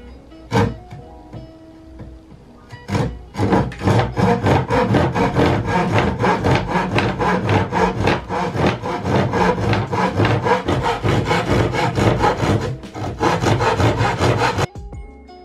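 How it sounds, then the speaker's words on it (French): Paper or card is cut out for a Japanese decoration, a loud continuous run of quick, rhythmic rasping strokes that follows a few sharp taps and lasts over ten seconds, then ends abruptly. "Donc on va découper ici, comme vous pouvez voir."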